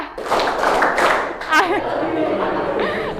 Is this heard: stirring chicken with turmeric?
no